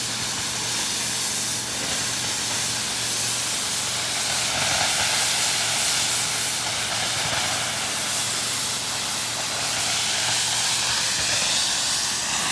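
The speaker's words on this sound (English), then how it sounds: "No fire, I'm still boiling water." Steady, loud steam hiss fills the whole stretch, a constant rushing roar with a low rumble underneath and no voices.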